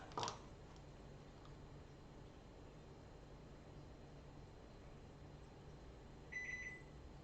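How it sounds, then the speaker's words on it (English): A microwave oven timer gives a short, faint electronic beep near the end, after a soft click at the start, over steady quiet room hiss. "Yes, yes, microwave. I've got your timer"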